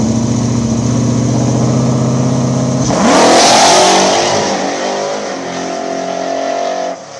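Drag radial race cars on 275 tyres, nitrous and supercharged, roar loudly at the line before a sharp burst as they launch, then fade into a steady, more distant engine drone as they race off down the strip.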